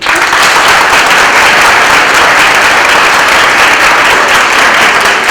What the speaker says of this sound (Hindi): 80 बार तालियां बजाओ